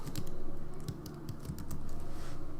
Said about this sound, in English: So I'll type in database info